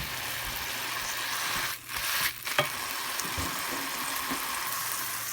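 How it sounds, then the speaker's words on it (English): Homemade breakfast sausage fries in a pan, giving a steady, close hiss and sizzle with a couple of brief dips and small pops partway through, no voices. "It's starting to fry."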